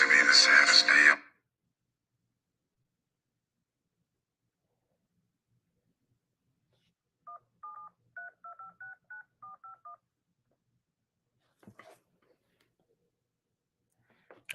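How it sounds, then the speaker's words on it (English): A telephone keypad, hit by accident, gives a quick run of about a dozen short dialing tones after a brief burst of talk, followed by silence and a few faint ticks. "I hit that phone on accident."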